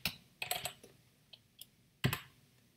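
Quiet, close computer keyboard typing during Java GUI coding: a few scattered clicks and short bursts of keystrokes with pauses between them, no voice present.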